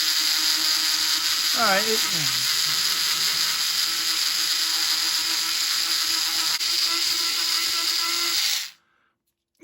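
A cheap budget rotary engraving tool from a discount supermarket runs at full speed cutting a letter into wood, a loud steady high-pitched whine that cuts off abruptly near the end, with a brief spoken word over it.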